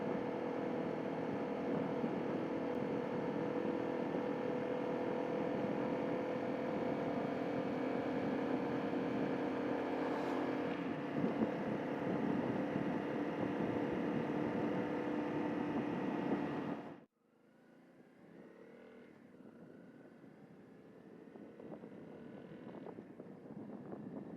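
A motorcycle engine heard from a helmet-mounted iZEEKER iA800 camera while riding: a steady droning hum with wind rush that cuts out abruptly partway through, then returns quieter and rougher.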